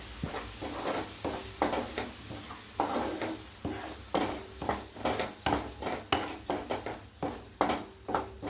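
Ground coconut paste being sautéed in a pan for egg curry, with a spoon scraping and stirring in a steady rhythm of distinct strokes over a soft sizzle, close and fairly clear.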